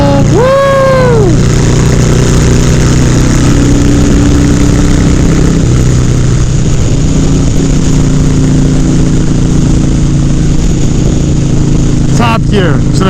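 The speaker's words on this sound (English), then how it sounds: "fifth gear pull." A Harley Softail motorcycle engine pulls in fifth gear with a steady, loud, low-pitched drone that builds gradually under heavy wind rush, after a brief vocal whoop at the start.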